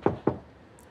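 Two sharp knocks on a door, close and loud, spaced about a fifth of a second apart, followed by a quiet room.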